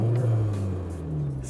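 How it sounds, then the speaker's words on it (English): A car fitted with a JB4 tuner idles with a steady low engine hum and rises briefly in a short, close rev before settling back down. "I'm gonna go ahead and give it a little rev real quick."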